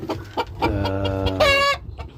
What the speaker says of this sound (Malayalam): 7 കളർ പൂവൻ കോഴിയാണിത്.